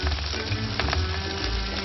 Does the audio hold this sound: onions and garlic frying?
yes